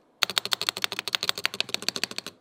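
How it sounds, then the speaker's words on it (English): Rapid, steady typing on a Corsair K70 Pro TKL keyboard: a run of crisp clicking keystrokes, close and clear, with a ticking spacebar, no voices. "But the spacebar does have that tick."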